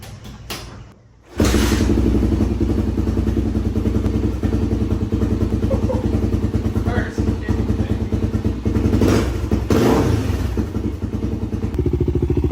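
A Honda XR400 dirt bike engine kicks over after a brief pause and settles into a steady, loud idle with rhythmic popping, running continuously close by.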